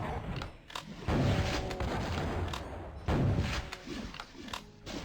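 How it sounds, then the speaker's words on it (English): Super shotgun blasts in the video game DOOM, two loud booming shots about two seconds apart amid steady game noise and action sounds, with no talking. "I think I'm going to go super shotgun."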